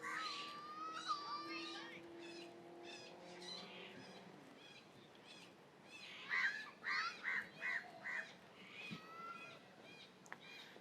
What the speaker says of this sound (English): The birds are really noisy.